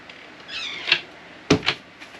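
A kitchen cupboard door swings open with a short creaking squeak, followed by two close, quick knocks of wood, then quiet.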